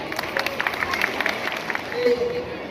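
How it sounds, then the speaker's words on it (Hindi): An audience at a Grandparents Day celebration claps in a burst of scattered, moderately loud applause that thins out, with murmuring voices underneath. "जोरदार तालियां बजाइए।"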